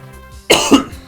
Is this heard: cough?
yes